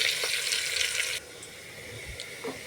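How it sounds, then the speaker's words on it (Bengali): Chopped onion sizzles in a hot pan while being stirred, a bright hissing crackle that drops to a softer sizzle partway through, with faint scraping from the spoon and no voices. "পেঁয়াজটা যতক্ষণ না কালার আসে আমি এটাকে নেড়ে চেড়ে নেব।"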